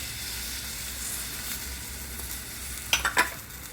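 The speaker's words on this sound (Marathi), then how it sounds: "आणि कांदा भाजून घेऊया" Chopped onion fries in oil in a pan for a Maharashtrian bitter gourd dish, giving a steady close sizzle, with a few louder crackles and scraping stirs near the end.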